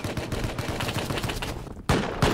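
Double-barrel shotgun fire in Rust, a rapid crackle of shots up close, then two sharp, loud blasts near the end.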